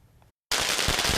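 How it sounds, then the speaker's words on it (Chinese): Firecrackers set off in Taichung to celebrate a NT$130 million lottery jackpot burst in a loud dense rapid crackle right after a brief silent gap, close and harsh. "听到这个炮声，就知讲有人中大奖啊！"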